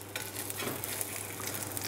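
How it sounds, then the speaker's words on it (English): Fish shallow frying in a pan of oil, a steady quiet sizzle and crackle with no talking. "I'm shallow frying this fish."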